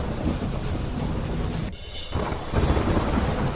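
Heavy rain pours steadily with rolling thunder rumbling underneath in Ramgarh, Jharkhand, dense and continuous with a brief dip partway through.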